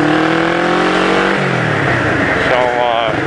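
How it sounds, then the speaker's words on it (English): Harsh, raspy motorcycle exhaust from a muffler with no baffle, revving loudly close by with rising and falling engine pitch for a few seconds, with no talk over it. "there's no baffle in the muffler, that's what's giving it the harsh sound"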